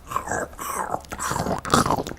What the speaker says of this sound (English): It's going to be like popcorn munching ASMR.